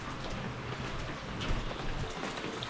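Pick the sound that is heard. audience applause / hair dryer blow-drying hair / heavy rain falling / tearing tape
heavy rain falling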